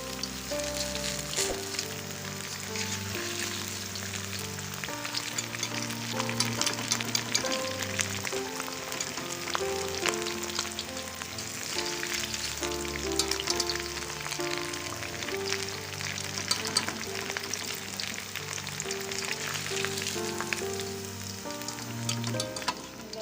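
Beef shami kababs frying in oil, a continuous crackling sizzle of spattering droplets lying under steady background music, without speech.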